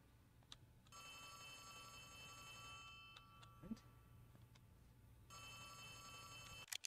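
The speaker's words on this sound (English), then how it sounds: "What's ringing? Who's calling me? Whose phone is that?" A telephone in the horror video game Poppy Playtime rings in two long, trilling bursts, clear and fairly loud, with faint footsteps and small clicks between them.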